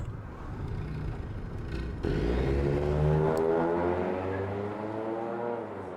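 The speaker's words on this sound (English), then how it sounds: "Park the car, Gregory, will you?" A car engine in a video game revs up, a loud rising whir with a sharp step into higher revs, then holds a steady drone before settling.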